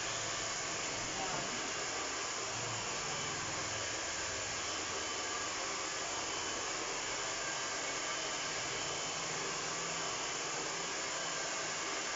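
A hair dryer blows with a loud, steady, broad whooshing roar that runs unbroken throughout, close by, with no clear talk over it.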